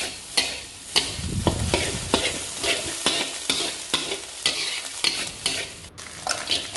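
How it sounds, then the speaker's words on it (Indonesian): Garlic and scrambled eggs stir-fried in oil for simple stir-fried vegetables, with a steady sizzle and a spatula scraping the pan in repeated strokes about every half second, close and fairly loud, no talking. "Kemudian kita masukin bawang putih, kita tumis bareng sama telurnya sampai dia wangi."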